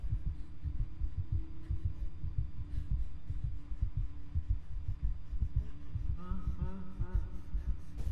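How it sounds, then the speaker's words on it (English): Loud, steady heartbeat from the horror video game FNAF Fazbear Nights, a heavy low thumping pulse running throughout with game ambience and a brief tonal sound near the end. "Dude, your heartbeat is so loud."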